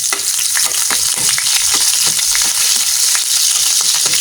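Garlic and onion sautéing in hot oil: a loud, constant hiss close by, broken by scraping stirring sounds, with no voices.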